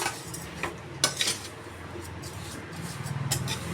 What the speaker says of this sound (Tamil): அந்த பொடியை தட்டிட்டு நல்லா கலந்து விட்டுருங்க